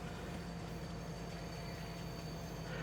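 Train ride in the video game Farming Simulator 22, a faint steady rumble and hum of rolling rail cars with a constant engine drone and no talk.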